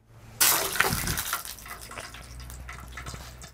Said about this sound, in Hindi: ये तो भुन रहा है यार इसके अंदर